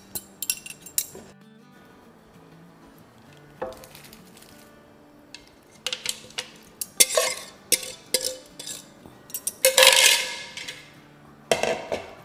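Shredded chicken being added back into a pot of soup stock in a home kitchen, with scattered clinks and scrapes of a utensil against the pot in irregular, fairly close bursts.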